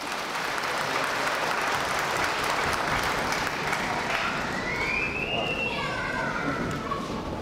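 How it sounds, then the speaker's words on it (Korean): Applause from the audience at a mayoral candidates' debate in Hanam: sustained, fairly dense clapping throughout, with voices and chatter mixed in. "박수 좀 부탁드립니다"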